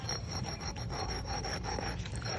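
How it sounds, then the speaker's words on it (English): Steady, continuous scraping and rasping of sandpaper over a hard concrete fake stone paver surface, close up, with a rhythmic back-and-forth texture and no voices. "just keep sanding"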